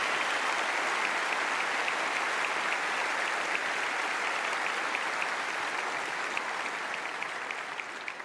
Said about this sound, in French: je vous demande d'applaudir mes parents